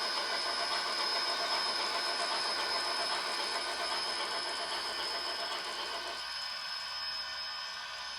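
A Bachmann Spectrum HO-scale three-truck Shay model locomotive with a LokSound V4.0 decoder gives off a steady hissing, chuffing engine sound that rises as it speeds up, then thins out near the end, with no talking.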